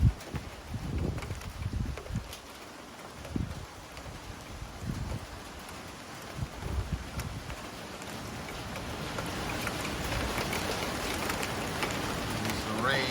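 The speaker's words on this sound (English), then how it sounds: "There's the rain." Rain falling during a windy thunderstorm in Thunder Bay, Ontario, a dense hiss of drops on surfaces that swells louder toward the end, with gusts buffeting the microphone and occasional voices in the background.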